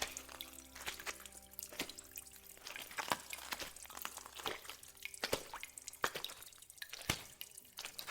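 Irregular water drips plink and splash in a reverberant, echoing space inside the abandoned Nevele Grande Hotel in Ellenville, New York, scattered unevenly over a faint background hiss.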